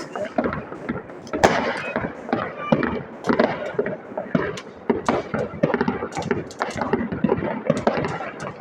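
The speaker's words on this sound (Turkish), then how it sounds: "havai fişekler patlaması gördüğünüz gibi" Dense, irregular crackling and popping bursts of New Year fireworks go off continuously, with a busy, noisy background throughout.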